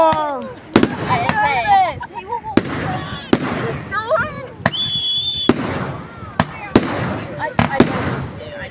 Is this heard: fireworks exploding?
yes